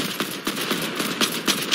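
Rapid gunfire in an online video game crackles in quick bursts, several sharp shots repeating at an uneven pace over a dense noisy background.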